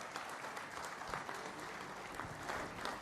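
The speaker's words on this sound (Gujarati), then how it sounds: "આપ આ ઠરાવને સર્વાનુમતે તાળીના ગડગડાટથી વધાવી લો." An audience at a business chamber's office-bearer installation ceremony claps in sustained, even applause, faint and distant, with no voices over it.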